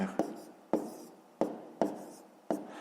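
Pen strokes on paper while numbers are written out by hand for column multiplication, five distinct taps and short scratches at an uneven pace, close and quiet with nothing else heard.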